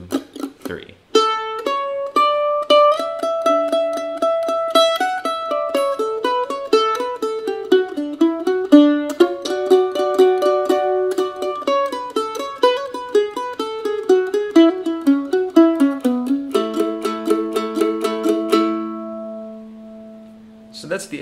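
A mandolin plays the A part of a tune slowly, with crisp, steady picked notes in a running melody. It is close, clear and unaccompanied, and ends on a ringing held chord.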